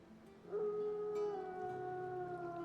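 A wolf in Final Fantasy 16 lets out a single long, sustained howl that rises then holds steady, fairly faint and alone without talking.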